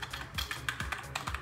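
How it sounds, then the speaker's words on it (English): Rapid keystrokes on an Amiga 1200 keyboard fitted with new keycaps, a close, crisp run of irregular clicks and clacks with no talking. "We have our new Amiga 1200 keyboard with new keycaps"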